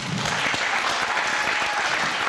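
Audience clapping for a panelist at a youth partnership convening, a dense, continuous burst of applause filling the whole moment, fairly loud and close, with no speech.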